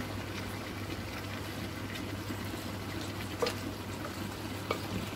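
Fish and bottle gourd stirred together in a home-cooking pan give a steady low bubbling sizzle with a faint hum, plus a couple of soft scraping knocks from the spoon near the end; no talking.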